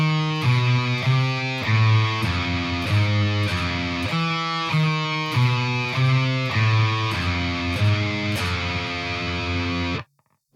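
A heavily distorted electric guitar plays a metal riff for about ten seconds, a dense run of picked notes and chords with brief gaps between phrases, loud and close before cutting off sharply.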